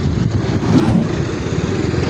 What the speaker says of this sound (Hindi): ट्राली गुजर रही है, ट्रैक्टर ट्राली।